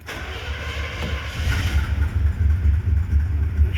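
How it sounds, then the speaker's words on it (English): A 1970 Chevrolet Impala with a 400 engine, long abandoned, cranks and churns with a steady low rumble that grows stronger and rougher over a few seconds, close by and without talk. "Crank her up, see if she'll run."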